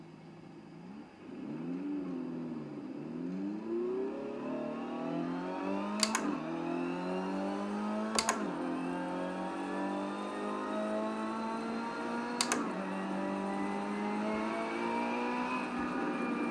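A race car engine in a driving video game at Circuit de Barcelona-Catalunya revs and climbs through the gears, the pitch rising smoothly and dropping at three sharp gear shifts, with a steady whine beneath, clear and alone.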